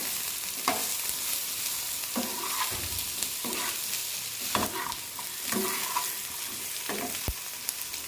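Carrots are stirred in a pan over a low flame under a constant soft sizzle, with repeated scraping strokes and an occasional sharp clink of the spoon against the pan.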